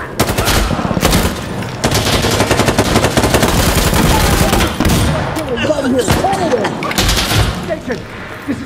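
Rapid, loud bursts of turret machine-gun fire in a first-person shooter video game rattle in repeated volleys, mixed with shouting voices and other battle noise throughout.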